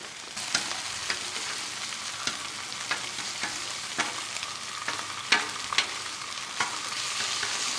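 Food sizzles steadily on a hot Blackstone flat-top griddle during a surf and turf cook, with sharp scraping and stirring clicks from a spatula scattered throughout at close range.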